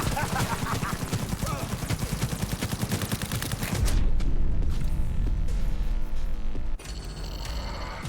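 Rapid assault rifle fire in the video game Cyberpunk 2077, a fast, steady rattle of loud shots for about four seconds, then dense game noise with scattered shots and a voice talking.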